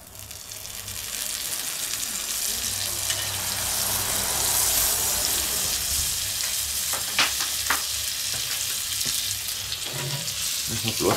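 Butter sizzling in a hot pan while sandwiches are prepared, a steady close crackling hiss with a few clinks and scrapes of utensils near the end.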